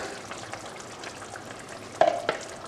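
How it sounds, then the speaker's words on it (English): Chicken chasni curry stirred in a frying pan: a steady soft sizzle runs throughout, with a couple of sharper scrapes or clinks of the spoon near the end. "I'll just give this a stir."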